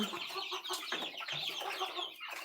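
Several chickens cluck and chatter close by in quick, overlapping bursts, a busy flock of hens calling continuously over a short stretch.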